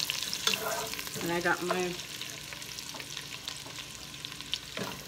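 Precooked ham hits a hot pot on a stovetop, a close sizzle and frying hiss with stirring scrapes, while someone briefly talks over it.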